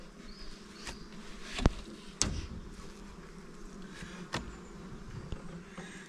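Buckfast honey bees hum in a freshly opened hive, a low continuous buzz with occasional close insects passing and a few sharp clicks and knocks from handling the hive, fairly faint and without speech.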